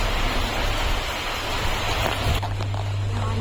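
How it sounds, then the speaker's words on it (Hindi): Heavy rain pours steadily in the hills outside a hotel, a loud, dense broadband wash that continues throughout with a low hum underneath. "बारिश और तेज हो गई है"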